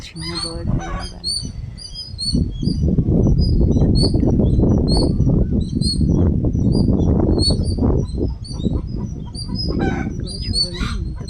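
A baby bird with a big beak and still-small feathers chirps repeatedly in shrill bursts, heard up close over steady loud rumbling and handling noise.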